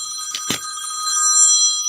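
A telephone bell rings in a steady, bright, high-pitched trill, close and fairly loud, with a brief knock near the start and no talking.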